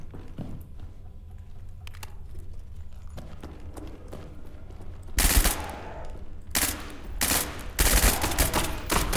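Rapid gunfire from the player's gun in the SCP 5K video game erupts in loud, dense bursts midway, following quieter footsteps and scuffling, with a brief pause between volleys.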